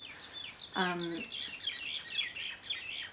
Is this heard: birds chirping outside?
yes